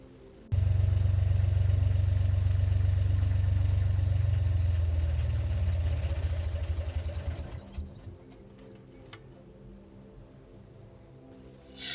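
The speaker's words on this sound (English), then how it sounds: "when I go for a cruise or run the engine to charge the batteries and I want to stop the engine" A narrowboat's diesel engine runs loud and steady with a low chugging drone, then winds down and stops around the eight-second mark, leaving a quiet hum for the rest.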